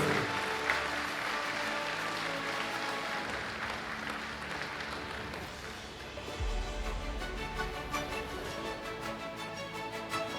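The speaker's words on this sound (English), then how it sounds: "one last round of applause for the Form 6 graduating class" Sustained applause from a large audience at a school graduation and awards ceremony for a Form 6 graduating class, steady and dense for about ten seconds, with a low musical rumble entering near the end.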